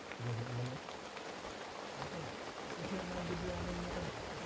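Steady rain patters and hisses all around, with people talking over it.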